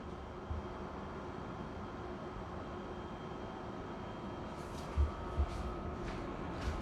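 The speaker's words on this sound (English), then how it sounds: "Sorry about that noise, that's my air conditioner in here." An air conditioner running inside a Ford Focus ST hums as a steady broadband whoosh, with a few faint clicks and thumps over it and no talk.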